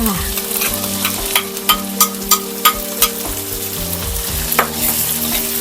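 Canned fish stir-fried with egg in a hot pan, loud continuous sizzling with a regular run of sharp spatula scrapes and taps against the pan, close up and without any voices.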